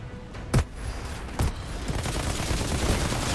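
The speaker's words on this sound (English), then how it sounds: "Cool little rockets coming in here." Incoming rockets in the Outriders shooter game: two sharp explosive thumps over a constant rumbling wash of battle noise, with dense distant gunfire building toward the end.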